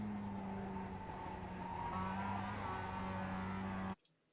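A Mazda MX5 race car engine drones at Summit Point in iRacing, a steady mid-pitched hum with faint tyre noise that holds for about four seconds and then cuts off abruptly.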